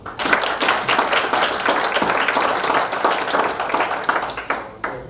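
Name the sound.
audience applause for the superintendent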